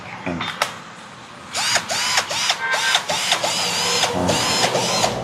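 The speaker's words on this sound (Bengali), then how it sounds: "এখন ড্রিল মেশিন চলতেছে" A battery-powered drill machine whirs in short repeated bursts, each with a ratcheting mechanical pulse, close up, with a voice talking briefly under it.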